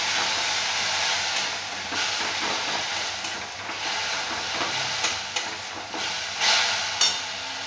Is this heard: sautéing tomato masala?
yes